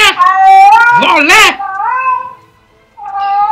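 Cat meowing loudly in drawn-out, wavering yowls close by, one long cry and then a shorter one after a brief pause.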